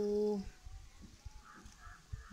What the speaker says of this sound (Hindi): बहुत सारी चिड़िया बोल रही हैं